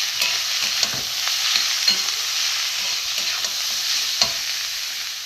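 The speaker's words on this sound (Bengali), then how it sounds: "গাজর দিয়ে দেবো টমেটম দিয়ে দেবো এগুলো এর সাথে আমি একটু ভালো করে কষিয়ে নেব ভেজে নেব" Carrots and tomatoes fry in a pan for a vegetable chop filling, giving a steady close sizzle with occasional scraping stirs of a spoon, and no voices.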